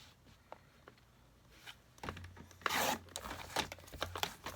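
Cardstock is scored and cut to make greeting cards, giving faint scattered taps, then a scraping, rasping slide of a blade across paper with rustling and crinkling handling noise, close and quiet.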